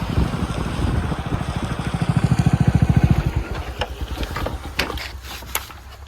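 A motorcycle engine chugging at idle close by, its rhythmic putter loudest early on, then fading as scattered clicks and noises follow.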